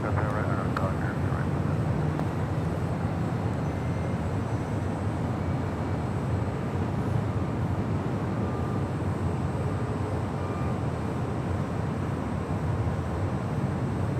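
An airplane taking off from runway 25 right at Los Angeles International Airport, a loud continuous roar of jet engines holding steady throughout, with radio voices talking over it.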